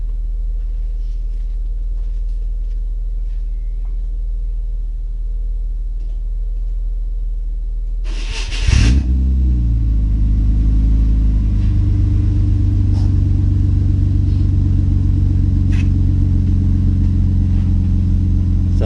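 A BMW E36 convertible, long stored in a barn, cranks briefly and catches, then settles into a loud steady idle with a deep rumble that runs on to the end, close by.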